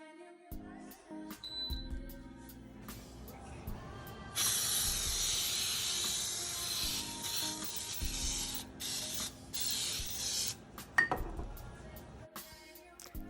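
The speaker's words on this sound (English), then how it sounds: "I am going to spray the pan with Pam baking spray." A steady hiss of Pam baking spray being sprayed into a cake pan runs for several seconds, with light clinks and knocks of the pan before and after.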